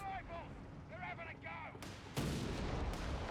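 Creeping barrage artillery fire in the strategy game Company of Heroes 3 booms as a heavy, sustained rumble of shell impacts, rising suddenly louder partway through, with talking running over the barrage.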